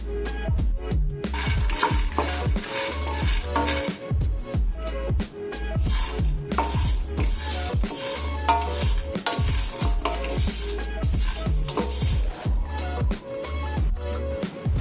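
Almonds, walnuts and makhana dry-roast in a pan, giving a steady run of scraping, stirring clatter and light sizzle that continues throughout, with a dense tonal backdrop and no talk.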